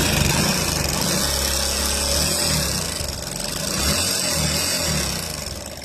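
A repaired motorcycle engine idles loudly and close by, a steady mechanical chug with a slight swell and dip in the middle and no talking.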